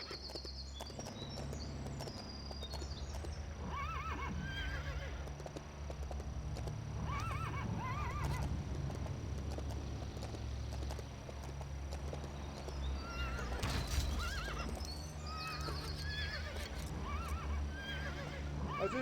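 Repeated horse whinnies and neighs over a steady bed of hoof clops, loud and close, with a slightly artificial, looped quality.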